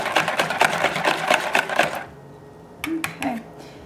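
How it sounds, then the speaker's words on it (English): A whisk clatters quickly against a bowl as milk is beaten into eggs for gluten-free bread batter. The whisking lasts about two seconds and is followed by a couple of soft knocks. "I'm just going to add the milk now. And give it a really good whisk."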